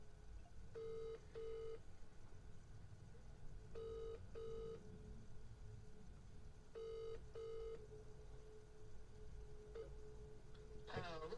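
A phone call rings out while waiting for a roofing company to pick up, three paired ringback tones spaced a few seconds apart over faint background hiss, ending with a brief click.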